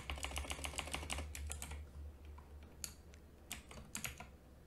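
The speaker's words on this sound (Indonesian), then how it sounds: "setiap kali saya menekan tombol pada keyboard" Someone types on a computer keyboard in rapid bursts of crisp clicks, then pauses before a few scattered single keystrokes, with a low hum running underneath.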